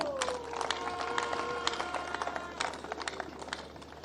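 An audience applauds at a university inauguration ceremony in Kananga, a quiet, steady patter of clapping heard at a distance, with a tonal sound and faint murmuring running underneath.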